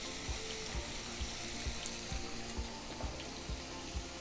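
Bacon, sliced into small strips, sautéing in a pan toward crispness: a steady sizzling hiss with soft regular low knocks roughly every half second, moderately close and without talk.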